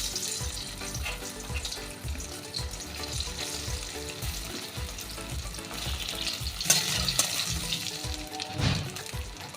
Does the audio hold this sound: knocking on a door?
no